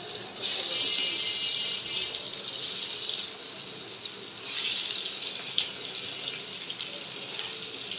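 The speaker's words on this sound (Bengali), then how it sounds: "এখন বেগুনটা ভেজে নেব।" Eggplant slices fry in hot oil, giving a loud, steady sizzling hiss that dips briefly midway and then resumes. The sound is close, with no talking.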